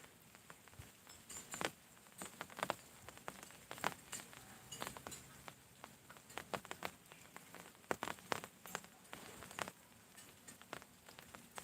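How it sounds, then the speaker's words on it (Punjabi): Rain falls quietly outdoors, with soft, irregular patters and drips landing on surfaces at a distance. No one speaks. "ਦੱਸਿਓ ਕਿੱਥੇ ਕਿੱਥੇ بارش ਹੋ ਰਹੀ ਆ"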